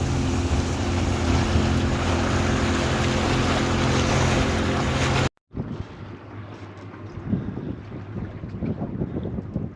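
Strong, steady wind roars across the microphone on an anchored fishing boat in the Solent off Hill Head, then drops after a brief cut to gusty buffeting with water lapping below, no voices.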